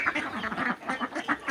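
Ducks, mostly drakes, quack in a quick run of nasal, overlapping calls, close and moderately loud, with no speech.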